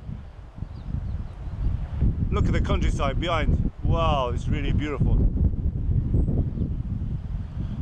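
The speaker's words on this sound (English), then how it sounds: "Very windy up here." Strong wind buffets the microphone on a high, exposed stretch of the Maltese coast near Mistra Bay, a steady low roar throughout with someone talking over it in the middle.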